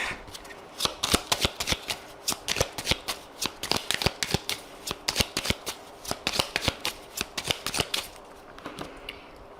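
A 32-card deck is shuffled repeatedly for a cartomancy reading, giving crisp riffling bursts in a quick, steady rhythm close up with no talking.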